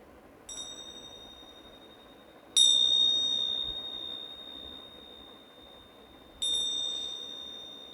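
Three clear strikes of a meditation bell used in a cleansing ceremony, spaced a few seconds apart, each ringing bright and sustained before slowly fading in a quiet room.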